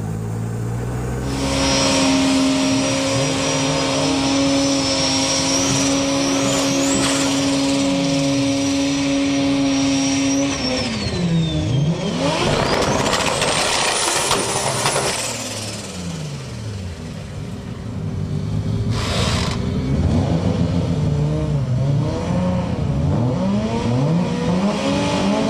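Drag racing car at Sendai Highland making a high-boost run: a loud engine drones steadily with sustained tonal whine, pitch rising through the run, then a rushing pass and a brief dip before the roar builds again, with no talk.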